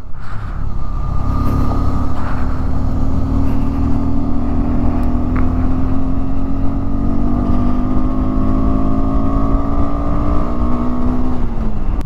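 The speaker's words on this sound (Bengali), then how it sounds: "আমরা একটুখানি টেনে চালাচ্ছি যাতে পিছনের ক্রাউডটাকে আমরা কাটিয়ে দিতে পারি" A car engine labors uphill toward Khardung La pass near Leh, a loud continuous drone whose pitch climbs slowly and steadily as the vehicle pulls harder up the mountain road.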